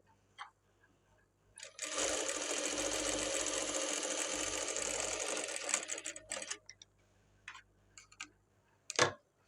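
A sewing machine stitches along the edge of a blouse in one continuous whirring run of about five seconds, with scattered clicks and handling taps before and after.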